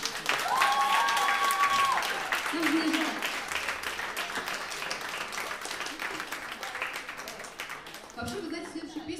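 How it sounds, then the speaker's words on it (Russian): Concert audience applause, a fairly loud burst of clapping and crowd noise with voices calling out early on, tapering off gradually over several seconds. "Давайте еще прям аплодисментов Роману."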